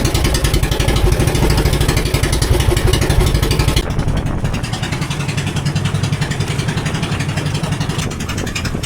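A boat engine with a fault runs loudly and continuously with a rapid pulsing chug, its tone shifting partway through but never stopping.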